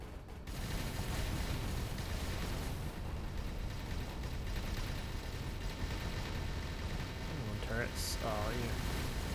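Spaceship turrets in the space game Avorion fire steadily throughout, a dense, continuous barrage of rumbling, crackling shots layered with other game effects, with a brief voice near the end.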